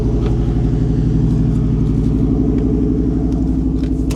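A car engine idling steadily and rather high, a loud, close, even mechanical rumble with a regular pulsing beat and no revving, heard alone.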